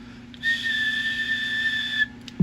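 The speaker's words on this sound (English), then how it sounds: "hear a little whistle here." A steady, clear two-tone whistle through a radio microphone on a Galaxy DX 55V radio, held for about a second and a half, slightly thin and electronic in character, with a faint hum beneath.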